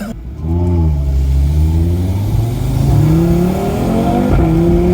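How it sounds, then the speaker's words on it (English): Audi RS3 engine revving hard in manual mode, heard from inside the car: a loud rising growl that climbs through the revs, dips with a gear change, then pulls up again, with no voices. "I just heard you revving it right out. I thought like maybe you forgot it was in manual"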